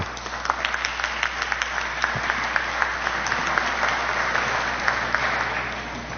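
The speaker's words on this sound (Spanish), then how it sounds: "lo recibimos con fuertes palmas" Audience applause welcoming a speaker to the podium at a constitutional economics lecture, a steady dense wash of clapping from a crowd, moderately loud and sustained throughout with no voices over it.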